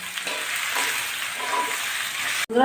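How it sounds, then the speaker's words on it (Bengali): Rice and lentils with salt and turmeric sauté in a wok for khichuri, making a dense, close sizzle and hiss that holds steady before ending abruptly in a sharp knock. "আমি চাল ডালটা ভালো করে কষিয়ে নেব"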